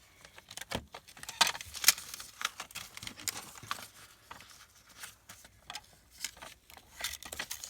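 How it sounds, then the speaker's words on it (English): Scissors cut through a paper privacy envelope, giving a string of irregular crisp snips and paper crinkles at close range, with short pauses between cuts. "I'm just going to cut it."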